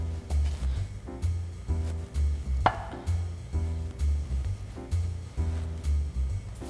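A knife cuts thin slices of Creole tomato on a board, with steady rhythmic taps repeating through the stretch and one sharper knock near the middle. No talking is heard.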